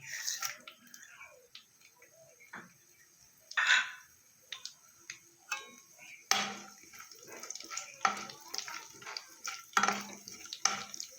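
Whole cumin and whole garam masala frying in mustard oil in a wok, giving a light crackle and sizzle with scattered sharp pops and utensil clinks, fairly quiet and close, with a voice speaking at times.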